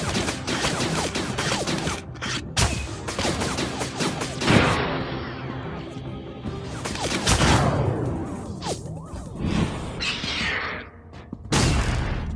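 Enemies blow up in the action game Iron Soul, a string of loud, crackling blasts and booms spread over about twelve seconds with brief gaps, amid busy game noise.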